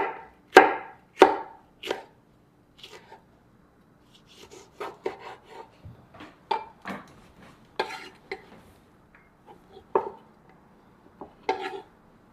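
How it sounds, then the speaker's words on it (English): Knife chopping a pepper on a board for Jamaican roast fish: a few loud sharp chops, a pause, then a run of lighter, uneven cuts and taps, close and with no talk. "Now we'll cut the pepper."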